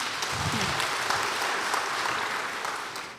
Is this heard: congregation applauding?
yes